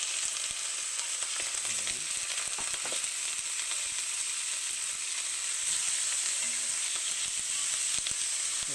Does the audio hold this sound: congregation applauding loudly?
no